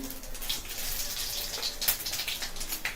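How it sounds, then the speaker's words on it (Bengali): Panch phoron spices hit hot white oil in a kadai, producing a faint, steady hissing sizzle with scattered tiny pops. "ফোড়ন দিয়ে দিচ্ছি, পাঁচফোড়ন"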